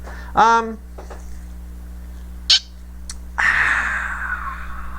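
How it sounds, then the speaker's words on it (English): A startled bird lets out a sharp, warbling call up close, followed by a brief squeak and a longer scratchy sound, over a steady low hum in a quiet indoor room. "I scared the bird on that one."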